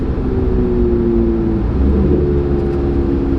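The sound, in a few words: twin turbo Corvette C8 Z06 engine accelerating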